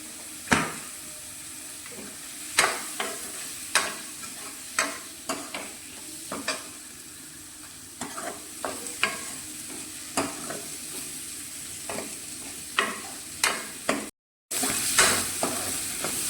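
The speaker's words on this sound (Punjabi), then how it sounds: "ਹਲਕਾ ਜਿਹਾ ਪਨੀਰ ਨੂੰ ਭੁੰਨ ਲੈਂਦੇ ਆ" Paneer roasts in a hot pan, a steady sizzle broken by repeated sharp scrapes and knocks of a spoon stirring every second or so, close up and mostly without talk.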